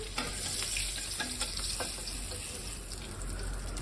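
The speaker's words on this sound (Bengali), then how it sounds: "মাছটা আমি হালকা করে একটু ভেজেছি, ভাজবো এটা।" Magur fish sizzles steadily in hot oil in a pan, a loud continuous frying hiss with faint crackles and no voices.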